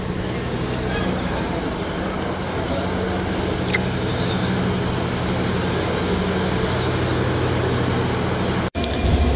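Titumir Express train with a 3200-horsepower diesel-electric locomotive, number 6605, a loud, steady rumbling drone of engine and rolling stock that fills the scene close by, with no clear talking.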